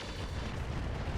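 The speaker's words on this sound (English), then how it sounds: "That was an SRM ammo explosion there." An SRM ammo explosion in the RogueTech mech game gives off a dense, rumbling blast that sustains as a loud, continuous burst of booming noise.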